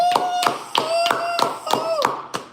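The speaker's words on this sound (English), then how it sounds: "Y'all gotta give us a round of applause." A few people clapping in a small room for a podcast's first episode, about eight sharp claps in a steady rhythm, close and fairly loud, with a voice speaking or humming over them.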